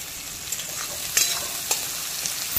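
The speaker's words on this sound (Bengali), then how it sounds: "পেঁয়াজ আর কাঁচা লঙ্কাটাকে ভালো করে কালার আসা পর্যন্ত ভেজে নেব।" Chopped onions and green chillies fry in oil with cumin seeds in a pan, a steady close sizzle broken by a few sharp stirring scrapes, with no voices.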